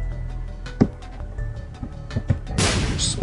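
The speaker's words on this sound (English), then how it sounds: "explosion" A burst of noisy explosion sound erupts in The Binding of Isaac: Wrath of the Lamb, a loud broadband blast near the end after a few small thumps and game effects.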